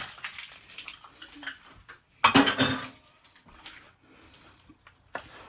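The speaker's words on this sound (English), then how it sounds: "Take my spoon and fold them in." A spoon works cherry oatmeal pecan cookie dough around a bowl, giving soft scraping and clinking against the bowl, with a louder burst of stirring partway through and quieter scrapes before and after.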